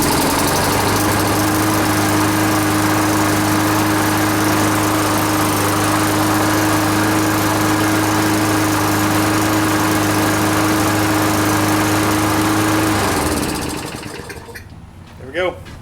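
An electric-start Toro lawn mower engine runs loud and steady at close range with a constant droning hum, then cuts off and winds down to quiet near the end.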